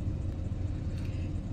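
Car engine just started after a jump start: a low, steady rumbling idle, quiet and continuous with no voices.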